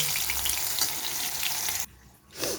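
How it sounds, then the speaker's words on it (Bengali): Raw green banana pieces frying in oil, a loud continuous sizzle close by that stops abruptly near the end, followed by a brief softer burst. "এবারে দিয়ে দিলাম কাঁচকলা কাঁচকলাটাও ভেজে তুলে নেব"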